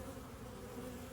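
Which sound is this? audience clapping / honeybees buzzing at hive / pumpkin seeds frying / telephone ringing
honeybees buzzing at hive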